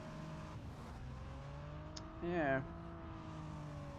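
A DeLorean driven in the racing game Driver San Francisco hums steadily with a low engine drone, swelling briefly into a louder rev with a tire squeal midway, while a voice says a word over it.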